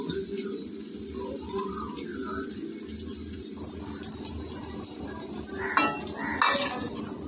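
Oil for frying onions heats in a kadai over a gas flame, a soft steady sizzle under a background hiss, with brief clatters near the end.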